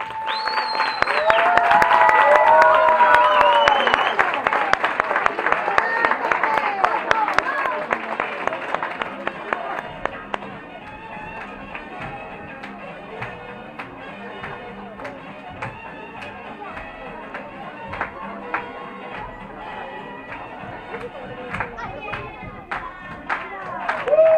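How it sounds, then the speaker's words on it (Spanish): Applause from an audience at a king and queen gala in Albelda de Iregua, loud and dense at first with music and voices over it, then thinning into steady scattered clapping that carries on for a long stretch. "aplauso"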